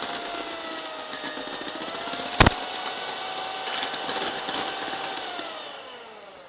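Electric mixer beating two egg whites stiff for a plum pudding, a steady close whir with a short sharp clatter partway through and slowly shifting pitch, no talk.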